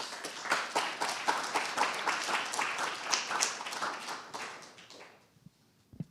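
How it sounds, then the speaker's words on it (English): Audience applause at a memorial lecture honoring a professor, dense steady clapping from a seated crowd that holds for about five seconds, then fades out, leaving a couple of isolated claps at the end. "Let's give a good clap to Professor Qiang."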